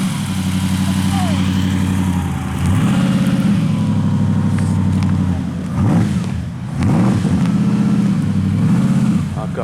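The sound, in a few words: Bugatti classic car engine running at car show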